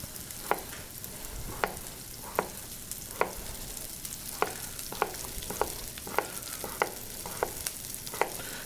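Sliced potatoes fry in butter in a pan with a steady soft sizzle, and sharp spatula scrapes and clicks land about once a second as the food is stirred.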